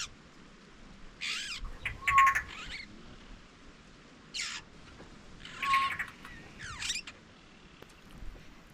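Several bursts of bird calls and chirps ring out at intervals over a quiet late-afternoon outdoor background at Elephant Sands, some close and fairly clear.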